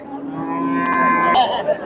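A native-breed dairy cow at a rural cattle market moos once, a close, loud, drawn-out low call with a brief rise near the end and no voices over it.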